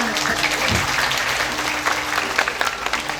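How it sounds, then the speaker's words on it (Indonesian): Audience applause during a traditional Balinese gong drama performance, a dense, steady roar of clapping from a crowd, with a faint tone lingering underneath. "Tepuk tangan."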